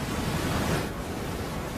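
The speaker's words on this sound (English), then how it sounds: "these waves and the storms that spawn them are getting bigger" Ocean waves and storm surf on the high seas roar as a steady, dense wash of noise, loud and continuous with no voices.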